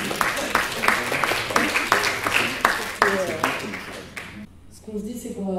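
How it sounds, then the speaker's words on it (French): An audience claps in a fairly rhythmic burst that fades after about four seconds, with voices talking over the tail end. "Vous pouvez applaudir si vous voulez."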